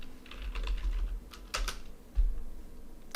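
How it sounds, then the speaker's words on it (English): Several quick bursts of keystrokes on a computer keyboard, close and fairly quiet, spelling out a short word with brief pauses between clusters of clicks. "Let's type in hello."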